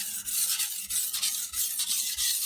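A knife blade is stroked down to the tip across a whetstone, giving repeated rasping, rubbing strokes in a steady back-and-forth rhythm, close and clear with no talking.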